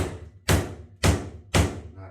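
A hammer gently knocks a chipped floor tile loose, giving three solid thuds about half a second apart, close and fairly loud, each one ringing briefly through the floor.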